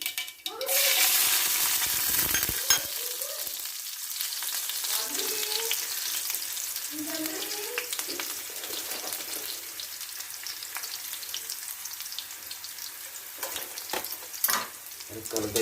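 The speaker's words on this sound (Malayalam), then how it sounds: "നമുക്ക് ഇച്ചിരി തോന ഉള്ളി വറുത്തിടാം" Small onions frying in hot oil in a pan while preparing a dish, giving a loud, steady hiss and crackle throughout, with occasional soft stirring scrapes and a few clinks near the end.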